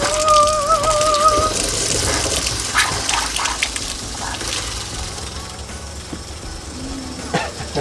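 An RV water pump kicks on and water gushes out steadily, a loud rushing, splashing flow with a brief whine early on and clunks and knocks from the plumbing throughout.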